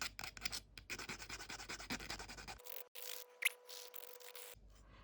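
Scraping strokes of a metal file smoothing a handmade 18th-century-style girandole earring, rapid and close for about two and a half seconds, then quieter with a faint steady tone, a single sharp tick, and a brief return of rubbing.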